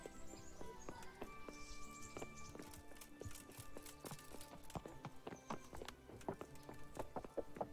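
Rhythmic clip-clop of horse hooves at a quick pace in the video game Kingdom Come, with occasional whinnies and small clattering sounds over a busy background.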